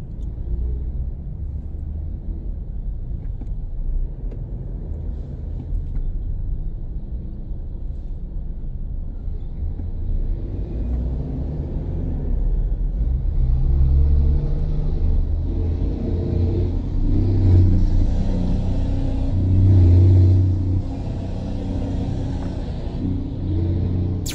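Heavy traffic on C5 Road in Libis, a continuous low rumble of car and vehicle engines nearby, swelling with occasional revving and passing motors.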